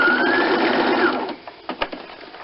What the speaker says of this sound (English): sew a little bar tack across there